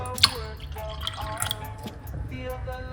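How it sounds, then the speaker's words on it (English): Water pouring into a cup that already holds lemon juice, a steady trickling run with a sharp drip near the start, close and moderately loud, with a faint voice in the background. "we're going to pour the lemon juice into the cup, and then we're going to put some water."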